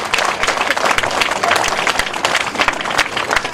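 Crowd applause at a girls' hostel groundbreaking ceremony attended by an MLA, dense steady clapping from many hands filling the whole stretch, moderately loud and close.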